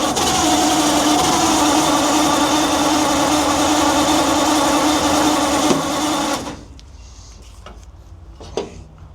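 Engine of an abandoned 1942 Ford CMP, gravity-fed from a lawnmower tank, running at a steady, loud, rattling idle for about six seconds before cutting out, leaving quiet shuffling and a faint knock.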